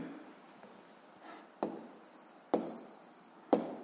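Handwriting on paper during a seventh-grade physics exercise: a soft lead-in followed by three distinct scratching strokes about a second apart, heard up close and quietly with no voices.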